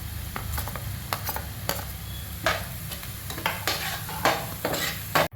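Onion and whole spices frying in a pan, a steady close sizzle broken by repeated scraping stirs of a utensil against the pan, with no voices.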